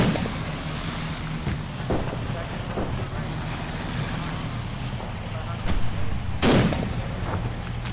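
Gunfire during a military training exercise in Tunisia, fired at a target around 500 metres away, with rumbling blasts over a steady engine drone and one sharp loud report near the end; voices talk throughout.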